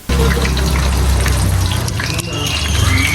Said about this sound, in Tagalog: Lagay tayo ng konting tubig para hindi masyadong maasim ang ating suka.